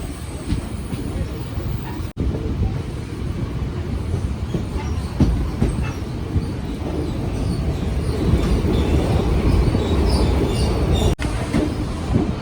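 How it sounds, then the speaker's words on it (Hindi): Mussoorie Express pulling into platform 1 at Haridwar station, running late; a steady, loud rumble of rolling railcars and wheels on track fills the whole stretch without talk. "हरिद्वार अराइविंग करती हुई 35 मिनट की देरी के साथ 1 नंबर प्लेटफॉर्म पर मसूरी एक्सप्रेस।"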